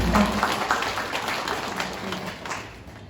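Scattered applause fills the room at a company New Year kickoff meeting, a steady, moderately loud patter of many hands that gradually thins toward the end.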